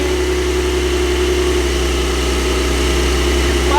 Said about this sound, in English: Exhaust valve opening.